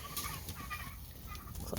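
Chickens in a coop, with quail and turkeys kept nearby, cluck softly in a short burst of faint, scattered calls against a noisy background.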